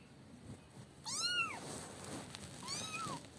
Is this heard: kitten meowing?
yes